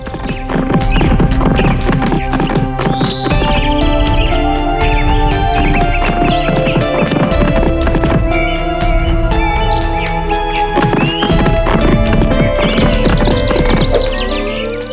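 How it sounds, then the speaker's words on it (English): Rhythmic hoofbeats clip-clop steadily over a loud musical backdrop, with a horse whinnying partway through. "rode his horse up the hill again"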